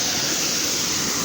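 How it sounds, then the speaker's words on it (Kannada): Mullamari dam waterfall near Khelagi, Bidar, roaring steadily as water gushes down, a dense, continuous rush that fills the whole short stretch with no pauses. "ಸೊ ನೀರಿನ ಫೋರ್ಸ್ ನೋಡ್ರಿ ಏಟ್ ಜೋರ್ಲಿ ಹೊಂಟದ ಮ್ಯಾಲಿಂದು."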